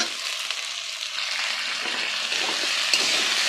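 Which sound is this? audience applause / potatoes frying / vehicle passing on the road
potatoes frying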